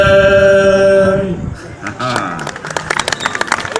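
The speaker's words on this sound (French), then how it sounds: "Merci pour vos applaudissements." An audience breaks into clapping and light laughter right after a Breton folk song at a Breton dance and singing event; the sung melody fades out and scattered, then denser, applause follows.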